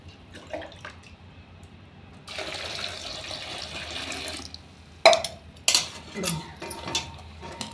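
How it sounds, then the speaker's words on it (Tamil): Water poured into a pot while cooking a cluster bean stir-fry in a home kitchen, a splashing pour lasting a couple of seconds followed by clinks and knocks of the pot and utensils. "தண்ணி ஊற்றிக்கலாம்"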